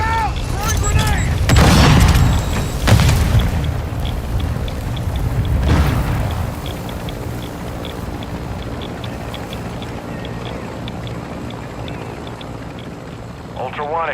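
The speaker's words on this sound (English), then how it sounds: "Frag out! Throwing grenade!" Heavy booming blasts from a grenade explosion in the Call of Duty DMZ video game, two deep thuds early on followed by rumbling debris, with voices talking over the action.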